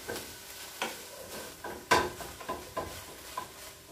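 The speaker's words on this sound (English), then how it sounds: "the hamburger meat cooks quick" Hamburger meat frying in a pan for caldito, a gravy dish, with a steady sizzle broken by several clear scraping stirs of the spatula against the pan.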